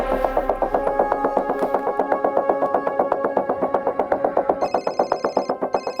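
A telephone rings loudly and persistently, a fast, regular train of bright electronic pulses that repeats without pause for six seconds, with no talking.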